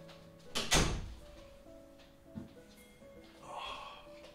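A door thumps open indoors to let a pet cat in, a single close knock-like clunk followed by a softer bump, with quiet room tone around it.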